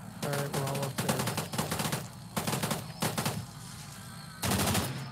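Bursts of automatic RPK machine-gun fire in the VR shooter Contractors, several loud, sustained volleys separated by short pauses, close and dominant with no talk.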